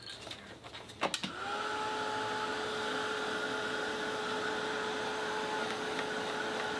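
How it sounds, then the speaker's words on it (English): A hair dryer blows steadily over wet watercolor paint after a brief clatter of handling, its loud, even whirr with a whine holding constant to the end. "Dry that so they don't blend together."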